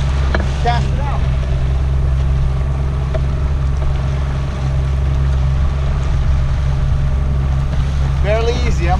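Steady low drone of a boat engine trolling at about 1200 RPM offshore near a reef, constant throughout with wind noise over the microphone and faint clicks.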